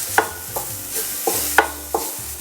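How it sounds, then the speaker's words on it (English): Minced garlic stir-fried in a pan at very low heat for steamed prawns, a spatula scraping and stirring in steady rhythmic strokes about every half second over a soft, faint sizzle, up close with no voices. "So keep stir frying for about 1 minute at very low heat."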